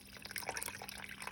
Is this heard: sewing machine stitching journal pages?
no